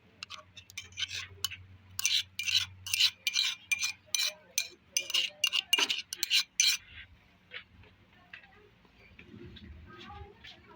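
Pounded Hyderabadi tomato chutney paste is stirred in a bowl, giving a run of quick, close scraping and clicking strokes in a steady rhythm that stops abruptly partway, leaving faint rustles behind.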